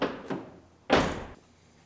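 A car door on a 2017 GMC Terrain Denali, worked with a newly fitted exterior handle: a light latch click, then one louder solid thunk as the door shuts, close by and with no talking.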